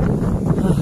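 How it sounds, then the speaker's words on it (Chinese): Strong wind in snowy Heilongjiang weather roars steadily and loudly across the microphone in a brief gust. "大风啊！"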